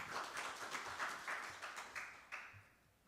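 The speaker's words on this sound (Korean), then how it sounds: "박수로 맞이해 주시기 바랍니다." A seminar audience claps quietly and somewhat rhythmically to welcome a speaker, with soft repeated bursts that fade toward the end.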